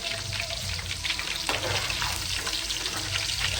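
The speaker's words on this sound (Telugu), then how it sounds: "ఫస్ట్గా ఎల్లిపాయ వేస్తున్నానండి. తర్వాత ఆవాలు, తర్వాత జీలకర్ర" Garlic, mustard seeds and cumin dropped into hot oil, making a loud, steady close sizzle that holds throughout, with faint stirring and crackle and no talk.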